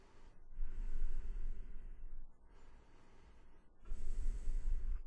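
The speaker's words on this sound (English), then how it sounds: "soften the friction of the air through your nose" Softened, quiet breathing through the nose as part of didgeridoo circular breathing: a few soft airy inhales and exhales with gentle friction noise, close and faint, no talking.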